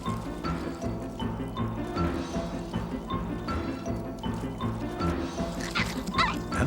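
Cartoon dogs, large and small, bark and yip together over busy music, with a short burst of excited yapping near the end.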